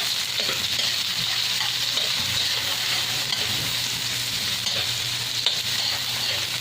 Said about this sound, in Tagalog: Lagay na po natin ang ating sibuyas.